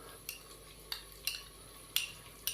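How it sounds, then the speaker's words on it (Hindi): Yogurt stirred into a carrot, cauliflower and pea curry with a spoon, five sharp scrapes and clinks against the pan spaced irregularly over a quiet background. "टमाटर के साथ ही मैं इसके अंदर 2 खाने के चम्मच दही शामिल करूंगा।"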